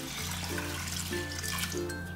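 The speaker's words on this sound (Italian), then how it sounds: "Non ci rimane che aggiungere l'acqua." Water poured into a pot of lentils with chopped spring onion and carrot for Tuscan ribollita soup, a steady close trickle and splash with a low hum beneath.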